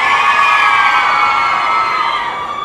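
Fan-meeting audience screaming and cheering loudly, a dense sustained wall of high-pitched shrieks and whoops that fades slightly toward the end.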